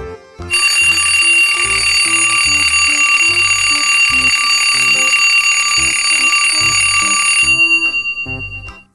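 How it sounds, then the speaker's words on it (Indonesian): A loud, continuous metallic alarm clock bell rings without pause for about seven seconds, then stops abruptly, leaving a brief fading tail. "Bunyi alarm jam waker."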